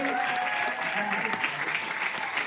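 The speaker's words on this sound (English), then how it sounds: "Give yourselves a round of applause, please." A crowd claps steadily in a brief burst of applause after a film screening Q&A, with a voice speaking faintly underneath.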